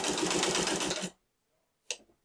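A sewing machine stitches a martingale collar in a fast, steady whir for about a second, then stops, followed by a brief mechanical click.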